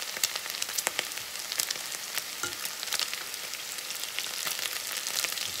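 Garlic and bacon frying in a pan, with a dense, continuous close-up sizzle and scattered crackles and pops throughout.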